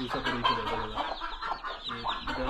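Native village chickens and chicks clucking close by on a farm in Ratnagiri, with repeated short overlapping clucks and peeps continuing throughout without any talk.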